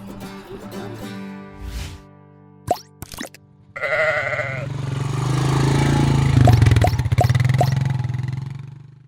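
Sheep bleat in a shed, with a few clear calls over a loud, steady engine-like drone and clattering, and scattered knocks and thuds nearby.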